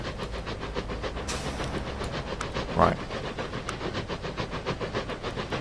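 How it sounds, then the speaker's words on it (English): A train in the video game Transport Fever 2 rumbles past with a rhythmic clickety-clack and a hiss of steam, one short spoken word heard briefly over it. "Oh, here comes a train."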